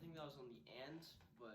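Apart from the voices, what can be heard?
No distinct noise like a dog, phone or traffic.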